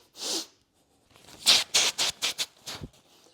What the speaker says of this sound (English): I'm sniffing.